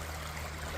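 Creek water rushing through a gold prospecting sluice on an Indiana creek, a steady, fairly faint broadband wash with no break and no voices.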